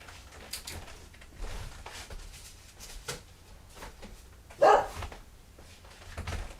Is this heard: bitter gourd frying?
no